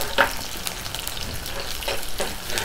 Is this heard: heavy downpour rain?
no